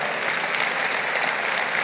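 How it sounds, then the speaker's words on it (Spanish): A church congregation applauds during a Spanish-language sermon, with steady, dense clapping from many hands throughout, fairly close and full. "Dale un aplauso al Señor"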